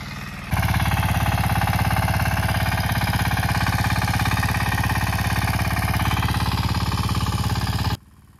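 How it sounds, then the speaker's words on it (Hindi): A small tractor engine chugs steadily at idle, loud and close, with a rapid regular knocking beat that starts abruptly and cuts off near the end. "ये है हमारा छोटा ट्रैक्टर स्कूटरी जिस पर मैं अभी खाद को लेके आया हूँ"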